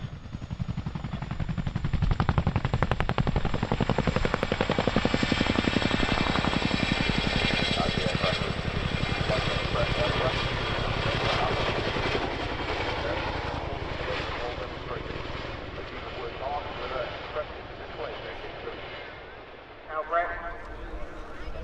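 Military transport aircraft with two 5,000 horsepower Honeywell engines departing an RAF airshow at Cosford, giving a loud, sustained broadband propeller and engine roar that swells early and then slowly fades, with announcer talk under it.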